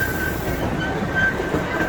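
Small amusement park train ride at Knoebels rolling along with a thin, steady wheel squeal ringing over a low track rumble, close and continuous.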